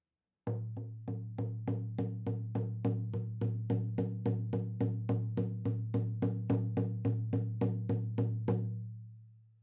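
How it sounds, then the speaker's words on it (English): A steady, evenly spaced shamanic drum beat, deep and resonant, repeating about three times per second without pause, then stopping and ringing out briefly. "So basically the drumming sounds like this."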